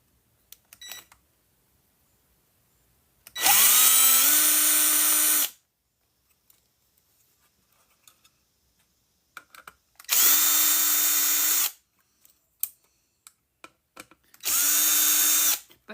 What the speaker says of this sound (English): By the way, yes, this is an impact drill.